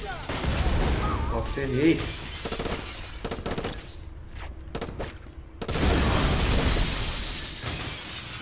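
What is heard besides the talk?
grenade explosion in video game Black on PS2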